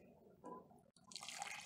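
Cinnamon-infused liquid poured from a pot into a pan, starting as a faint drip and trickle, then turning into a steady, close, hissing pour for the last half second.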